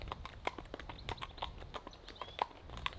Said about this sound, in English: a horse could do with a good grooming though.